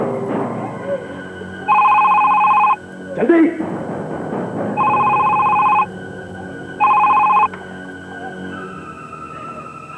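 A telephone rings in repeated bursts, loud and near, with a person talking and background noise between the rings.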